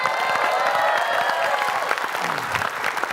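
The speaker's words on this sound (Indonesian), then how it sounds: "Kita tepuk tangan dulu biar makin semangat" A studio audience on an Indonesian television quiz show claps together to lift the mood, a loud, busy burst of many hands clapping steadily over a faint crowd murmur and a thin tonal backing.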